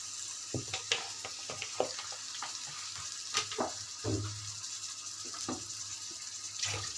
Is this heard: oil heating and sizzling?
yes